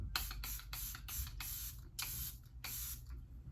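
Repeated quick hissing spritzes from a spray bottle, about eight short bursts in an uneven rhythm, close and fairly quiet.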